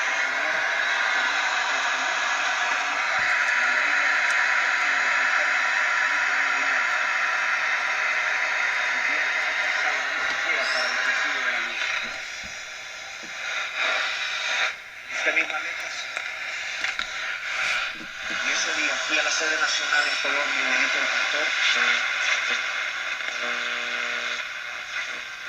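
A 1957 General Electric portable transistor radio hisses with broadband static inside a metal-roofed house, steady and loud at first, then breaking into fluctuating crackles and faint tuning whistles.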